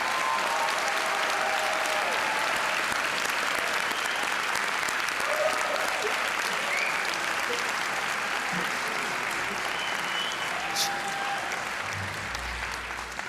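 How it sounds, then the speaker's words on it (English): Sustained, even applause from a large audience at a nursing school pinning ceremony fills the hall, dense clapping held steady and close, fading slightly near the end. "Let's give a round of applause to all our graduates."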